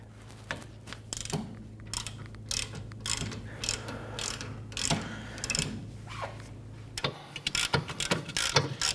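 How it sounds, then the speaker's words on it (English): A ratchet with a 14mm socket works loose a caliper bracket bolt on the rear brakes of a 2004-2008 Acura TL, giving rapid close clicking bursts and metallic rattles in uneven spurts, with a steady low hum behind. "Use a 14mm socket. We're going to loosen the caliper bracket bolt here and then one up top."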